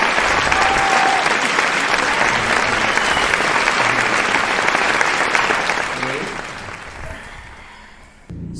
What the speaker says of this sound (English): Ladies and gentlemen, give a round of applause to Mr.